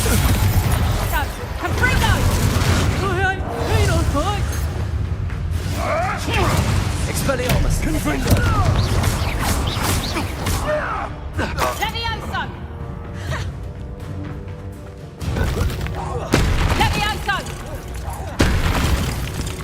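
The Bombarda explosive spell in Hogwarts Legacy lands as repeated booming blasts amid fast magical combat, with voices talking over much of the fight.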